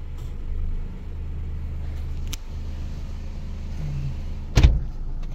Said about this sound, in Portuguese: Renault Kwid em funcionamento